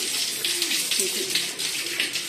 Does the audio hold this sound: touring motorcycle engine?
no